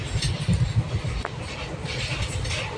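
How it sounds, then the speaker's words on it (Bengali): A passenger train running at speed, with a steady low rumble and clatter throughout and a broad hiss of wind and track noise, loud and continuous with no talk. "আমাদের ট্রেনটা আর এখন এত স্পিডে চালাচ্ছে, এত শব্দ।"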